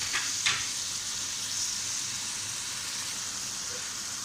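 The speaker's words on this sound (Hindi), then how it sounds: "इसको 5 मिनट फ्राई करेंगे।" Bottle gourd and tomato frying with meat in a pot, a steady broad sizzle throughout with a couple of brief stirring clatters near the start, close and moderately loud with no voices.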